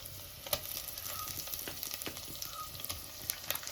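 Mutton sizzles steadily in a pan with seasoning while being stirred for a Mangalorean mutton curry. The frying is loud and close, with scattered sharper pops and scraping stirs over a constant hiss.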